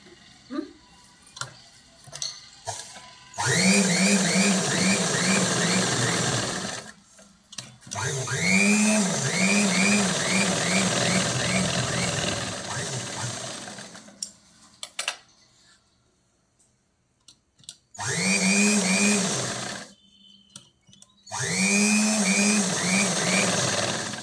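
A sewing machine stitching blouse fabric and lining: long, steady runs of close whirring and rhythmic needle clatter, broken by pauses and small handling noises between the bursts.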